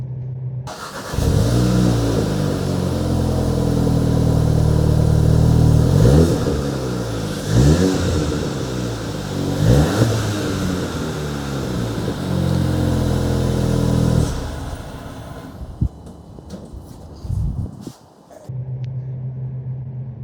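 A 2021 Volkswagen GTI engine with stock exhaust and intake revs repeatedly, rising and falling through the gears with a moderate exhaust rumble, then settles to a low idle.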